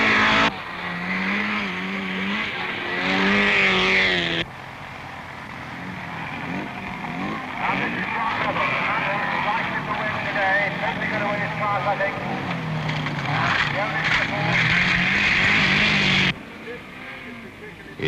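A homespun 1970s special race car runs an autocross course, its engine note rising and falling through gear changes, near and loud with occasional tire noise, under a steady commentary voice.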